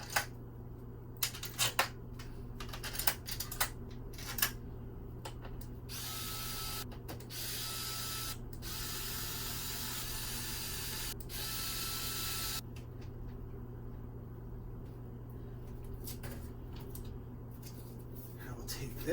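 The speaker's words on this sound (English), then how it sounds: "We will get the 6 screws in." Screws are driven into an Xbox 360 case during a retro-bright restoration, with clicking ratchet-like turns and a sustained mechanical whir over a low steady hum, close and moderately loud.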